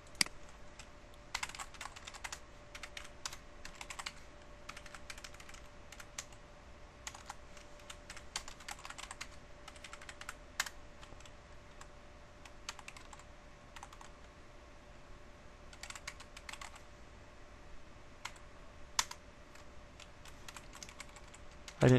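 Someone types on a computer keyboard while configuring network IP services, with irregular bursts of key clicks against a faint steady hum.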